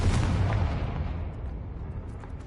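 A Confringo blasting spell in the Hogwarts Legacy game goes off as a loud, booming explosion that rumbles heavily at first and then fades into a decaying roar.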